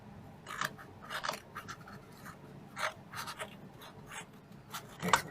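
Scissors cutting down material for a gnome sewing caddy produce several short, close snipping and scratching sounds at irregular intervals, fairly quiet with no speech.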